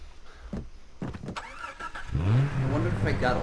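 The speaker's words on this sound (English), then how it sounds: "Let's get back in the car and keep on going." A car engine in the video game Far Cry 3 starts and revs, its mid-pitched tone rising and holding steady over the last second and a half, loud and close amid other in-game sounds.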